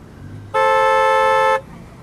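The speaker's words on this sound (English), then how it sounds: "all the people kind of honking their horns" A single loud, sustained car horn blast lasting about a second, with faint traffic noise before and after.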